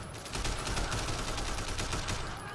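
Sustained gunfire in the video game Sleeping Dogs, a dense hail of rapid shots with no breaks, moderately loud and unbroken across the few seconds, with no talk over it.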